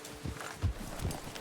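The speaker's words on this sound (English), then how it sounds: "Get a hold of that horse, Arthur." Horse hooves clop in the video game Red Dead Redemption 2, a few soft, uneven thuds against a quiet ambient background, with no speech.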